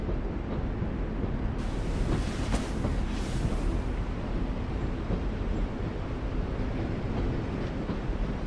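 Train ride ambience from The Walking Dead: The Final Season video game: a steady low rumble of rail cars, with a brief brighter rushing swell near the start, heard alone and without talk.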